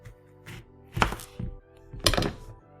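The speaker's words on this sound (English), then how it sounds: "you also need to chop a lemon in half" A knife chops a lemon in half on a cutting board several times, producing sharp, hollow thunks in an irregular rhythm at close range.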